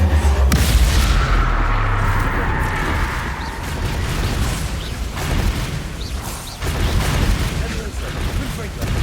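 Confringo spell explosions in Hogwarts Legacy, booming blasts and crackling bursts in quick succession over rumbling game effects, loud and close throughout.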